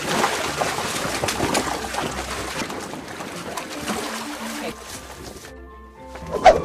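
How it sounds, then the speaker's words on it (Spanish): Foley wind and sea sounds made with a piece of leather and water give a steady, rushing wash with sloshing swells that fades near the end, heard alongside speech. "Ahora veremos cómo recrean el sonido del viento y del mar usando únicamente una pieza de cuero"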